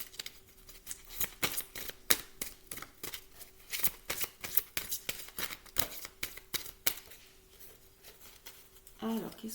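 Tarot cards being shuffled and handled close up, a series of crisp riffling slaps and soft flicks in irregular bursts, with a faint steady hum underneath and a brief voice near the end.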